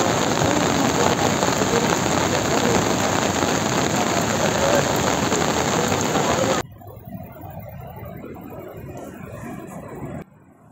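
The Song river rushing in flood after a cloudburst, a dense, loud roar of water that fills the first part, then cuts to a quieter, rougher wash of flowing water.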